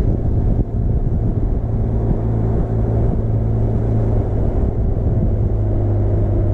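Benelli TRK 502 X motorcycle ridden at half throttle on a road near central Lisbon, fitted with a 15-tooth front sprocket. The engine hums steadily and closely at a constant speed under heavy wind rumble, with no talk.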